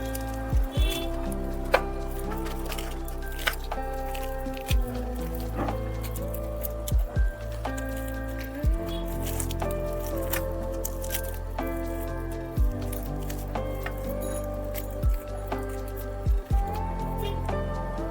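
Ripe palm fruit pulp squished by hand to separate the seeds, wet squelching and dripping sounds recurring at close range over a low steady background hum, with no talk.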